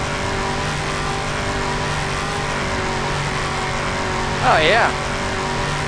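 Car engine and tyre noise drifting in the Just Cause 2 game, a steady droning whine running throughout with a brief louder swell near the end, while someone talks over it.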